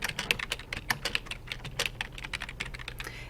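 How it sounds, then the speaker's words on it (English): Typing on a computer keyboard while entering a name into a document, a quick irregular run of crisp, close key clicks throughout with no talking. "I'm going to type in my name."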